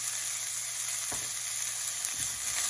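Celery with a pinch of salt stir-frying in an oiled pan, a steady close sizzle running throughout with a couple of soft scrapes as the pieces are stirred.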